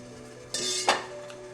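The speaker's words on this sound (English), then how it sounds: "carefully remove that lid" A hot steamer lid lifted off a pot of steamed carrots, a short metallic scrape followed by a clanking lift and a brief hiss of escaping steam, close by and fairly quiet.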